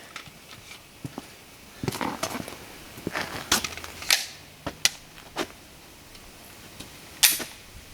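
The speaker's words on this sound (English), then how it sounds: "I want to shoot the other one. Taurus TX22." A Taurus TX22 pistol fires a string of irregular sharp reports, heard fairly distant and muted, with uneven gaps between shots and a low background hum throughout.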